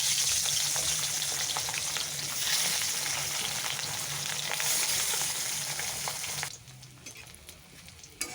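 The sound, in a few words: fish frying in oil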